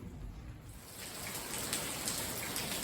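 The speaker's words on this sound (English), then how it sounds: "I just wanted to do a video while it's raining hard" Heavy rain pours on a building under construction, a dense continuous hiss of drops hitting surfaces that swells slightly over a few seconds, with no one speaking.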